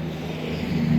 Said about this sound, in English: 408 W2 headed engine.